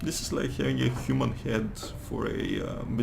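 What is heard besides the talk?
None of the usual background noises is heard.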